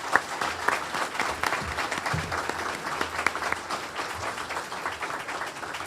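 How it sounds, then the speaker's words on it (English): An audience at a Kiwanis Patriots Day luncheon claps for Sea Cadets, a moderate round of applause with distinct individual claps audible, lasting about six seconds. "Let's give the Sea Cadets a big round of applause."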